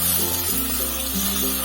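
Tomatoes and onions sauté in a hot pan for mutton biryani, giving a steady close sizzle with a faint hum running underneath.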